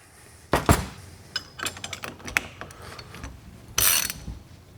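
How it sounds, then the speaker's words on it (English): A ratchet with a 3/4 inch socket tightens bolts in a star pattern on a ratio sleeve assembly: short bursts of rapid clicking and metallic scraping, separated by brief pauses, close and fairly loud, with no voices. "I'm going to use 3/4 inch wrench, box end wrench, as well as a 3/4 inch socket. I'm going to tighten these in a star pattern."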